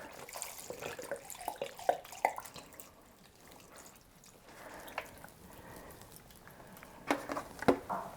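Water pours in uneven splashes into an Instant Pot holding vegan minestrone soup with vegetable stock, trickling and pattering at close range with a few brighter drips near the start and end, no talk.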